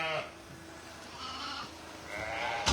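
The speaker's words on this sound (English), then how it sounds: "how we're going to get all these sheep and lambs into that trailer without a degree of mayhem" Sheep and lambs bleat at a farm while waiting to be loaded into a trailer, with one clear bleat at the start and another near the end over a steady background of flock noise.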